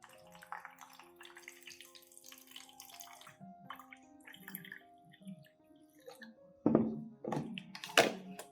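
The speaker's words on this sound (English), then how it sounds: "I pour the diluted solution made from charcoal powder and coffee into a mist spray bottle" A diluted solution of charcoal powder and coffee is poured into a mist spray bottle, heard as a quiet trickle and splash of liquid. The pour grows louder in short gushes near the end.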